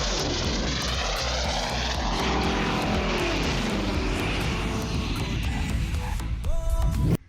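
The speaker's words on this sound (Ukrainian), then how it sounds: "Заходь на приземлення. Смугу відкрито." Propeller airplane coming in to land, a loud, steady engine drone close by for about seven seconds before cutting off abruptly at the end.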